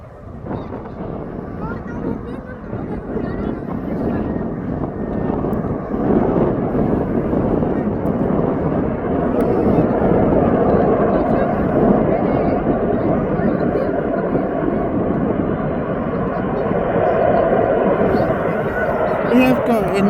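An Aer Lingus airliner arriving at Birmingham International Airport from Belfast, its engine rumble swelling from faint to a sustained moderate roar with some wind buffeting, while a voice talks over it.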